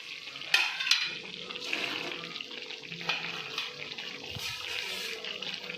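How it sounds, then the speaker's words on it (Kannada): Gobi manchurian masala bubbling and sizzling in a pan, a steady close frying hiss with a few sharp clinks and scrapes of stirring, no talking. "ಕುದೀತಾ ಇದೆ ಮಸಾಲೆ"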